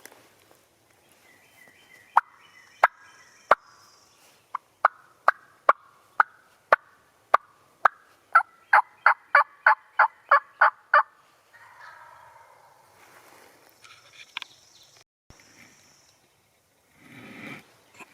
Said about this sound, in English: Got these two turkeys right here.